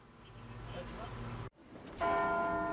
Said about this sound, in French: Les cloches de Big Ben sont sorties de leur silence.